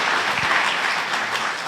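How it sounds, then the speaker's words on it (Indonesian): Church congregation at a GBI Sunday service in Batam, Indonesia, clapping for Jesus: a dense, steady wash of applause from many hands filling the hall, sustained at even loudness throughout with no voices on top. "Beri tepuk tangan dulu buat Tuhan Yesus"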